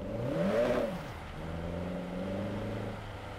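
A car engine in the racing game JDM Japanese Drift Master revs up briefly on a drag track, then settles into a steady hum. The sound is fairly quiet, with no talk over it.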